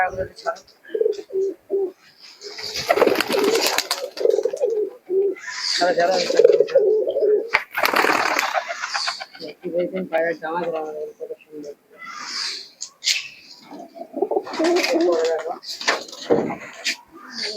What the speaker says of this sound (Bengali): এক জোড়া কবুতর আছে মাস্টার আর খুবই সুন্দর কবুতর